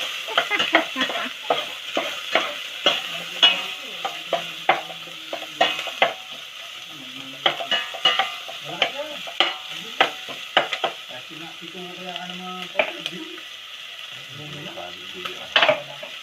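Onions sizzle in a hot pan while being stirred for pinapaitan, with repeated sharp scraping and clacking strokes over a soft frying hiss, close and fairly loud.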